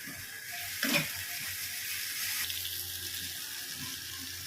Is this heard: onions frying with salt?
yes